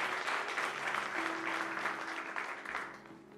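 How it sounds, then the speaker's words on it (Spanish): A church congregation claps steadily and loudly for a few seconds during a sermon, the applause fading slightly toward the end. "Quiero que le dé un aplauso bien fuerte a nuestro Dios."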